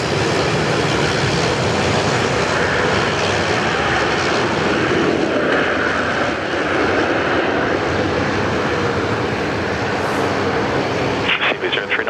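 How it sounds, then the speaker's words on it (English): An airliner in a fresh, colourful livery touches down at Sydney Airport, its engines a loud, steady roar filling the whole stretch, with voices talking over it. "absolute butter landing"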